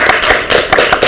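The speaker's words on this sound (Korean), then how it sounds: "같이 박수를 보냅니다." A few people clapping together at a Korean party leadership meeting, close and loud, with sharp uneven claps spaced in short bursts over about a second.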